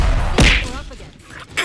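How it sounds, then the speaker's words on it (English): A grenade explodes in Halo 4 with a sharp, loud thump and whoosh, followed by lighter rumbling debris and a second smaller burst near the end. "Grenade, get down."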